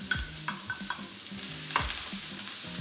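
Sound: onion sautéing in hot vegetable oil

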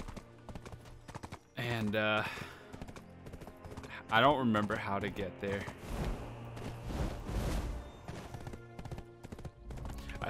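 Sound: horse hooves clip-clopping in video game Black Desert Online

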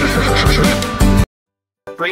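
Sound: horse neighing

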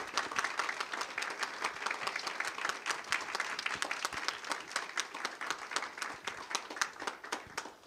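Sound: audience applause for panelists at forum closing

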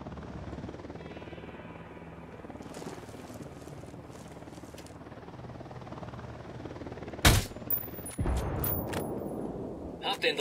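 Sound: helicopter and gunfire in Ghost Recon Wildlands video game

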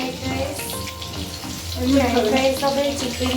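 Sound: fish frying

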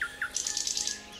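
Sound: birds chirping in a wild garden

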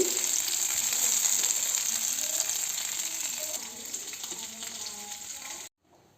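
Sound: frying sarputi fish in oil

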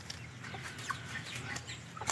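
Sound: free-range chickens clucking

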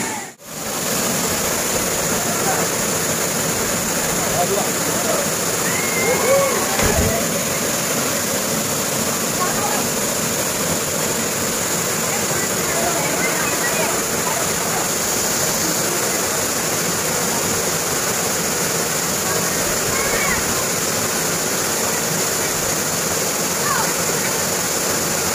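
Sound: waterfall

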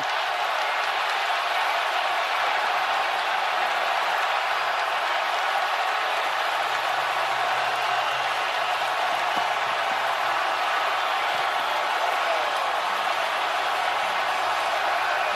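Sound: Milwaukee crowd erupting in celebration at NBA Finals

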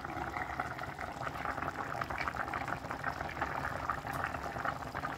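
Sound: food boiling in a pot

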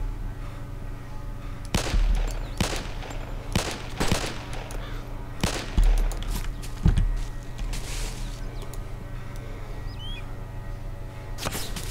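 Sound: gunshots in video game DayZ

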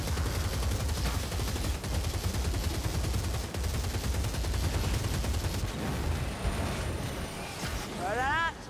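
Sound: gun shooting in the video game Warhammer Vermintide

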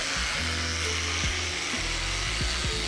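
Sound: power screwdriver running

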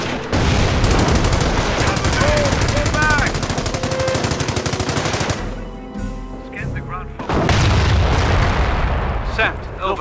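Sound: bombs exploding in Company of Heroes video game

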